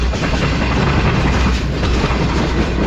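Shalimar Express train running past Tando Adam junction in Pakistan, a steady, loud roar of rolling wagons with continuous rail clatter, close by and without voices.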